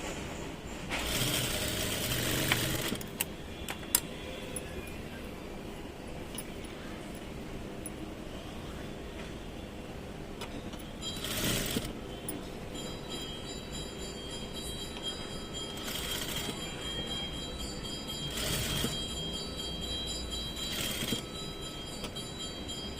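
A sewing machine stitching fabric in several mechanical bursts of rapid needle clatter, separated by quieter pauses with a low running hum, close and without speech.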